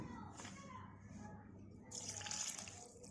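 Water is poured into a blender jar of chutney ingredients with cumin and sugar, a short gurgling splash that swells near the end, quiet and close, with no speech.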